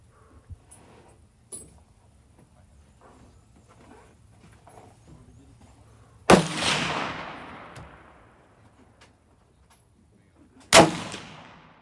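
Two sharp rifle shots from a Bergara B14HMR fired at a 100-yard range, each a loud crack with a decaying echo, about four seconds apart after quiet background rustling.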